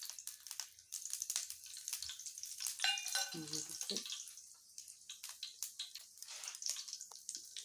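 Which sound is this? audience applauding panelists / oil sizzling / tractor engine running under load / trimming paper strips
oil sizzling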